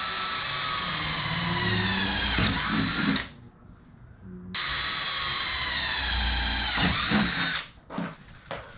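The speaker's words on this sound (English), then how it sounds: "So he's fixing to drill a hole in this." A power drill whines steadily as it bites into a car's metal body, stops briefly, then drills again in a second long burst, close and loud.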